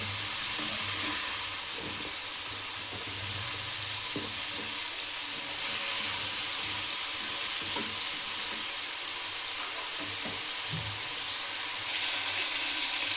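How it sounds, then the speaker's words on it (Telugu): Cut drumsticks sizzle steadily in a hot pan for sambar, with soft scraping and clunks of stirring breaking through the continuous frying hiss. "ఇలా కట్ చేసుకున్నటువంటి మునక్కాయల్ని ఇందులో వేసుకోవాలి ఫ్రెండ్స్. వేసి ఇలా కలుపుకోవాలి."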